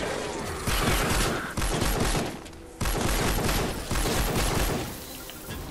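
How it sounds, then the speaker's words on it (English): Sustained bursts of rapid gunfire from the video game Fortnite Save the World, loud and dense with brief gaps between volleys. "Shoot him!"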